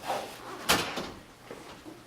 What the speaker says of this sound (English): can I shut this door?